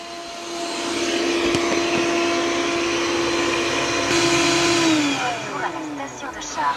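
An Ecovacs DEEBOT OZMO T9 robot vacuum gives a steady mechanical whir with a droning tonal hum throughout, fairly loud and close, the pitch sliding down near the end as the motor changes.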